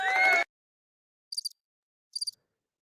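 Crickets chirping as a sound effect, two short, bright trilling bursts about a second apart, clear and isolated after a brief opening tone.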